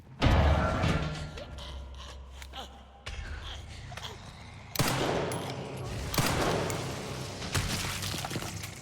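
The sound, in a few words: gunfire in Resident Evil Requiem video game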